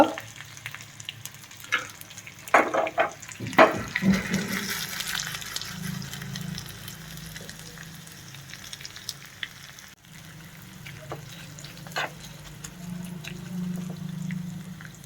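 Curry leaves, turmeric and asafoetida hitting hot oil for a tempering, a loud burst of crackling sizzle that settles into a steady frying hiss, with stirring clinks and brief pauses.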